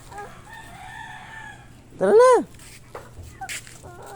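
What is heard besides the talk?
chicken clucking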